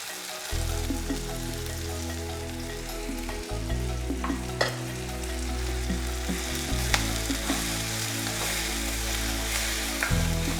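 Black nightshade greens (manathakkali keerai) fry with tomato in a pan, giving a loud, constant sizzle and crackle with occasional stirring scrapes, no voices.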